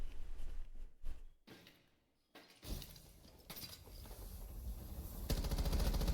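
Gunfire in Rainbow Six Siege console gameplay, sharp cracking shots and a brief rattle early on, then a silent gap before dense rapid firing and crashing impacts build and hold loudly to the end.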